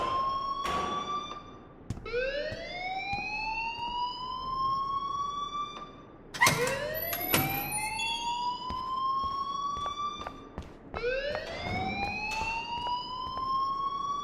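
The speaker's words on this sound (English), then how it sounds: "please turn off that alarm since that's your job" A loud electronic alarm in the video game Life is Strange wails in repeated rising sweeps, three long whooping cycles that climb in pitch and hold, with sharp clanks between them and no talking.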